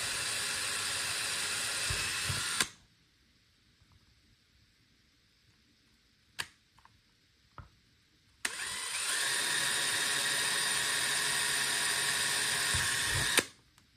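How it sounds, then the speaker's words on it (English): Power drill boring a hole through a blind end cap in two loud, steady bursts of high whine, separated by a quiet pause that holds a few small clicks and knocks. "So go ahead and drill a hole on each side."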